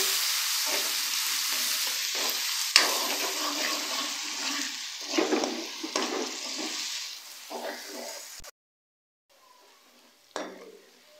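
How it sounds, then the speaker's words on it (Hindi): Steady hissing sizzle of onions frying with ginger garlic paste in a pan with occasional stirring scrapes, then a sudden drop to near silence before a brief final clatter. "एक मिनट तक प्याज के साथ फ्राई करेंगे"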